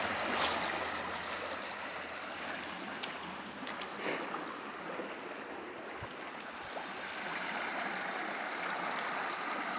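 Fast-flowing creek water swollen by recent rain, a steady rushing hiss at moderate distance, with a brief splash partway through and no talk.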